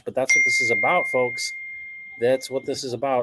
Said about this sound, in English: Excuse my beeping here.